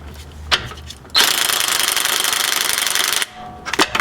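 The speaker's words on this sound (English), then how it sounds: "We're gonna go ahead and undo the steering rack bolts." A power tool undoes the steering rack bolts on a car, letting out one loud, steady buzzing whir of about two seconds that is close and harsh, with softer clicks and knocks before and after it.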